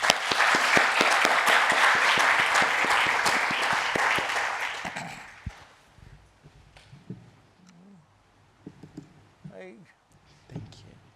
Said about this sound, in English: join me in thanking the staff by clapping your hands to say thank you for a wonderful day